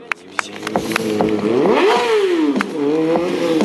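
A Kawasaki 636 sport motorcycle at a 2013 motor show revs hard. The engine pitch swells and sweeps up and down, loud and close, with clattering mechanical knocks and scrapes mixed in.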